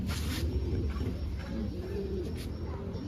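A young racing pigeon coos close by in soft, low, repeated rolling calls, with faint background noise and no other voices.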